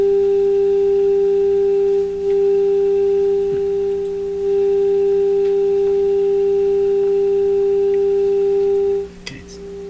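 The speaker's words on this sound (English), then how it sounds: "that's the output of the signal generator. That's my signal tracer. That's what we hear." Steady pure test tone from a signal generator played through a signal tracer on a Hallicrafters S-40A shortwave receiver bench, loud and unwavering with faint harmonics, cutting off abruptly near the end with a click.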